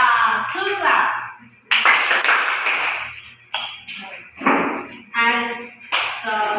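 Two rounds of group clapping in a classroom during a set theory lesson, bursts of applause between stretches of a teacher talking nearby.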